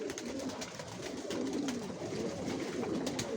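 Original racer pigeons coo continuously inside a loft, a low, close, overlapping rolling murmur from several birds, with no one talking.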